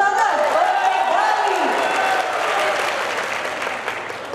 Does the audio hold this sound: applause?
yes